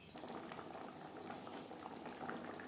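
Gravy for a rohu fish head curry with potato bubbling at a steady boil in a pan, a soft continuous seething with no voices.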